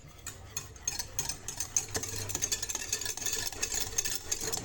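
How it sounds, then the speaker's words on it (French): Whisk stirring a gluten-free béchamel sauce thickened with cornstarch: quick, rhythmic metallic scraping and ticking against the pan, fairly soft and close, with no talking. "Je vais prendre mon fouet et c'est parti."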